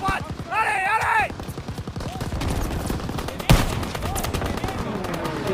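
Machine gun fire rattles in the Call of Duty WWII video game, a fast burst of close shots with a sharp blast near the middle, mixed with shouting voices and battle noise.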